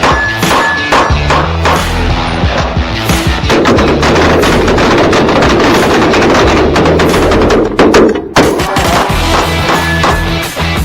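Rapid gunfire from a PSA Dagger pistol rings out loud and close, shot after shot in a dense, continuous string with barely a pause.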